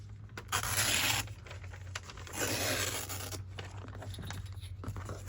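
Paper being trimmed for a decorated journal page at a craft table, two bursts of dry close-up scraping and tearing-like rasps, with quieter rustling between them and no talking.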